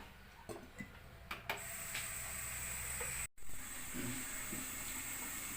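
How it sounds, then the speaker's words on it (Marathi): Steam hisses steadily from a simmering vegetable Kolhapuri curry in a pan, a soft continuous hiss heard alone after a few quiet clicks and taps, with a brief dropout midway before the hiss resumes. "छान आपल्या भाजीला वाफ आलेली आहे."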